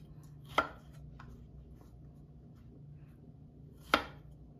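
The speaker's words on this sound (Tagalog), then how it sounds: "At isunod naman natin ang broccoli na pang topping. Hiwain po natin." A knife chops through a boiled broccoli stem on a cutting board, two sharp, distinct knocks a few seconds apart with a faint third tap between them, close and clear against quiet kitchen background.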